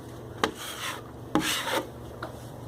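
A scraper drags joint compound across small holes in drywall, three short rasping strokes with scratchy onsets, close and fairly quiet, with no talking.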